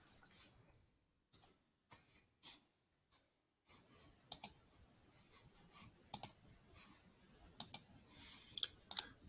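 Sparse typing on a computer keyboard during a dimensional-analysis math lesson, quiet scattered key clicks coming in small groups with short pauses between them.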